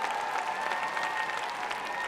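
An audience applauds an astronaut guest at a gathering, dense, steady clapping from many hands that fills the room for the whole stretch.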